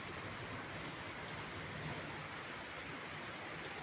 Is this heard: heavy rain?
yes